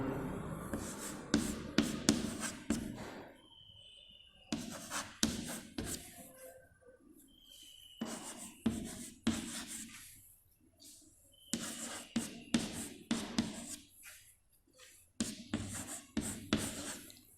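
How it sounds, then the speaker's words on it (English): Pen or marker writing out a maths example on a board, heard as several bursts of scratchy strokes separated by short pauses, fairly close and alone without talk. "Okay, please, I will write an example."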